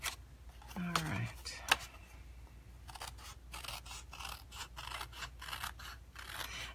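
Scissors fussy-cut around a paper shape in a rapid run of close, crisp snips and light scraping, with occasional quiet talk.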